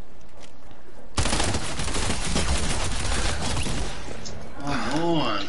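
Rapid automatic gunfire in a first-person shooter video game, a dense sustained burst of shots after a brief quiet start, loud and close, fading out near the end as a short tonal game effect plays.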